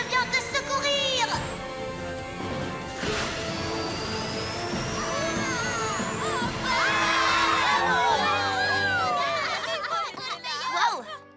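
A cartoon crowd of ponies cheers for Rainbow Dash with excited, high-pitched shouts and calls swelling over background music. Voices speak within the noisy celebration.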